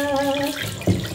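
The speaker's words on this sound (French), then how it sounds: "tu prends la trompe qui est sous forme d'arrosoir. Et au fait, ça fait la petite douche." A battery-powered, elephant-shaped baby bath shower runs water through its sprinkler trunk. A short, close hum is followed by a soft splash of water, with no talking.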